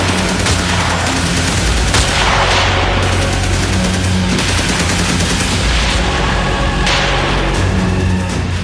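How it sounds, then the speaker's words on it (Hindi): Gunfire sound effect for a reconstruction of the 26/11 Mumbai terror attack of November 2008, loud dense rapid bursts of shots and booms filling the whole stretch without pause. "अचानक शहर के एक हिस्से में गोलियां चलने लगी।"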